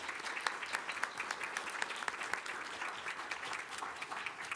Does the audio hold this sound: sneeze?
no